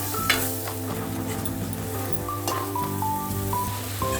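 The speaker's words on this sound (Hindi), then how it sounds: "ये सब सारे चीज़ों को मिला के अच्छी तरह भुनना है मसाला को।" Chole masala roasting and being stirred in a pan, a steady sizzle and fry with scraping stir strokes running throughout, fairly close, with a tonal hum underneath.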